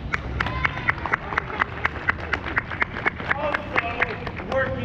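An outdoor crowd of visitors claps for a cannon crew at Sutter's Fort historic park in Sacramento, California, with scattered, fairly sparse applause running steadily at moderate distance and murmuring voices underneath.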